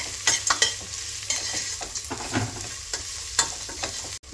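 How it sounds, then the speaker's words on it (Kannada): Onions frying and browning in a pan while cooking tomato bath, with steady close sizzling and sharp spatula stirring and scraping strokes repeating throughout, no voices. "ಈರುಳ್ಳಿ ಚೆನ್ನಾಗಿ ಬ್ರೌನ್ ಆಗಲಿ"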